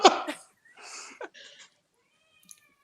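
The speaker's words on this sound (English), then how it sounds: "Someone's got a cat" A pet cat meows several times in a row, loud and close at first and then trailing off into shorter, quieter calls in an otherwise quiet room.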